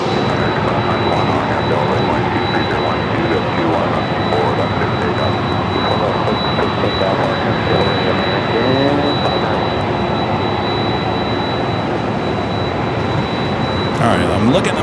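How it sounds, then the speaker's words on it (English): An Airbus A220-300 jet arriving on runway 24 right at Los Angeles airport, a steady, loud broadband engine roar that holds for the whole stretch, with a faint voice in the background. "Airbus A220-300. Next arrival on 24 right."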